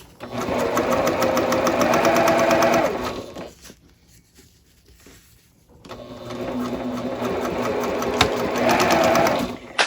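A sewing machine stitches bag seams in two loud close bursts of rapid needle rhythm, separated by a quiet gap of about two seconds where the backstitch is set, with faint rustling in between.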